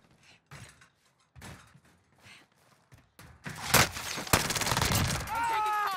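Gunfire bursts in Call of Duty Warzone erupt partway through after quiet stretches of talk, loud and dense, with rapid shots in a Cold War-era match while players speak over the action.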